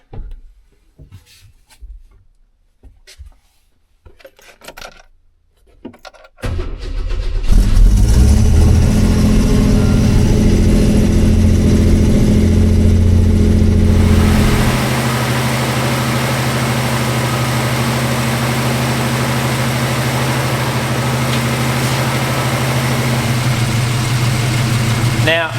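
An old car with a carburettor cranks after some quiet handling, then fires up with a loud roar that settles into a steady, rumbling idle, close and sustained to the end.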